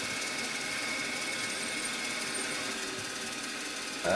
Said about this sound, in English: So I know this drill has to go in total about 15 mil deep.